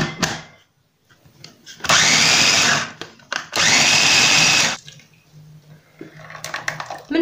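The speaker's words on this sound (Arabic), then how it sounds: "ومن بعد كنخلطوا المكونات في الخلاط الكهربائي." Electric blender whirring loudly through two sustained bursts of about three seconds each while mixing dough ingredients in a home kitchen, separated by short pauses and quieter handling noises.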